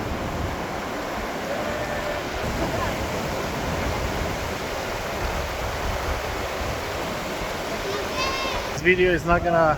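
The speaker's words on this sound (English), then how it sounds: "The wind, that's from the waterfall." Roaring waterfall at Takakkaw Falls in Canada, the country's second tallest, a steady broadband rush of falling water with wind, loud and continuous, with a voice speaking briefly over it near the end.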